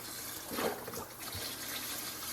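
Water pours steadily into a pot of chicken stock in a kitchen, a soft continuous splashing and trickling, fairly quiet and without talk.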